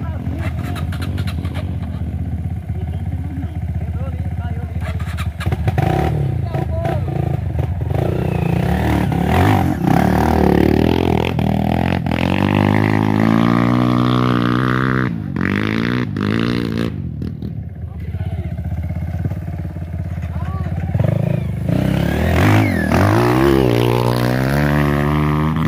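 A trail motorcycle engine revs and strains uphill at close range on a dirt trail in Ceará, pitch rising and falling repeatedly, with clatter and scraping mixed in and people talking over it.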